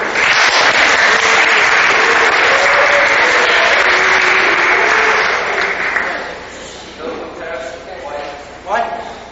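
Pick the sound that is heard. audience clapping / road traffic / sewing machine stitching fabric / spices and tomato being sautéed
audience clapping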